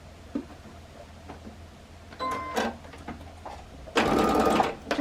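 Short bursts of a sewing machine stitching a braided Christmas table runner, one brief run mid-way and a louder, denser burst near the end, separated by quiet ticks and small handling sounds.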